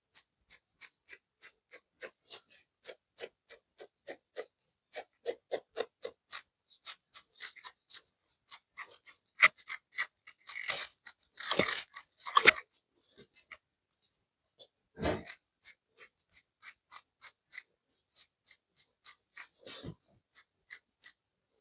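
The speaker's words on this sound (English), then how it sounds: "Go in a bit and cut to the end of the hijab." Scissors snipping through fabric while a hijab is cut out, a close series of quiet, crisp, rhythmic clicks in quick runs separated by short pauses, with a few louder rustles of cloth midway.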